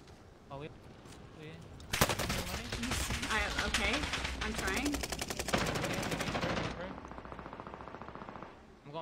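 Rapid automatic gunfire in a video game, loud and near, bursts running steadily for several seconds mid-clip with a faint voice underneath at the start.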